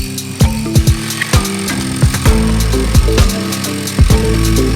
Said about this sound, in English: I got this drill ready, and I'm just gonna put it through the hole and just almost have it sideways and just really push on it that way